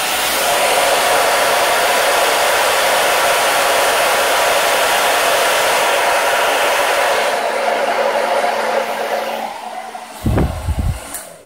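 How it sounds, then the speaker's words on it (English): A hair dryer on its low, cool setting blows steadily and loudly over 3D fiber lashes, a constant whooshing hum that drops away near the end with a brief clunk as it switches off. "if you really want that curl, blow them dry"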